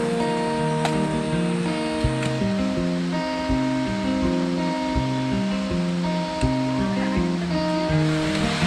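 Waterfall on the Gede Pangrango hiking trail via Cibodas, a steady, loud rushing roar of falling water, with sustained musical tones layered over it.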